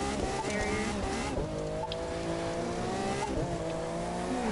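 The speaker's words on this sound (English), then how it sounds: "this car is so fun to drift" Tires squeal in long sliding drifts over a steady, loud car engine in the racing video game The Crew 2, with the engine note rising and shifting as the car slides.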